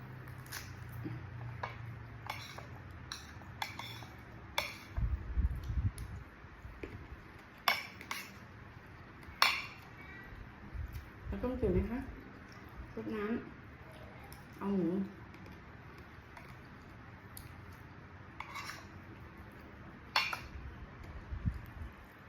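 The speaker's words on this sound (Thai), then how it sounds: "แม่ไปเอามีดมาหั่นมะเขือ" Scattered knife taps and clicks on a cutting board sound close by, with a few soft squishy cuts through eggplant in the middle while people talk intermittently.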